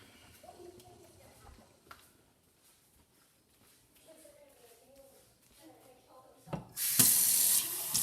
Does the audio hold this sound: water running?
yes